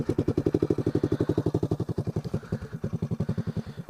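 Honda ATC 185s three-wheeler, cold-blooded and freshly warmed, idling close by with an even, rapid thumping pulse that wavers slightly partway through.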